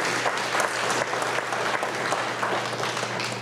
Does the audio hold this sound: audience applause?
yes